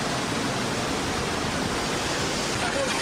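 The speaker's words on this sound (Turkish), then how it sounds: "Fırtına ve sağanak başkenti esir aldı." Heavy rainstorm downpour pouring over Ankara, a dense, steady hiss of falling rain that stays loud and unbroken for the whole few seconds, with no other sounds standing out.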